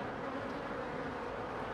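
Honeybees buzzing inside a wintering hive with only a few bees present, a steady, soft, continuous hum with no voices.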